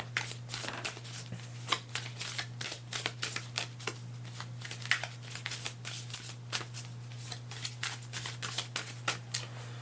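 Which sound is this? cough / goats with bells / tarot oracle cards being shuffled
tarot oracle cards being shuffled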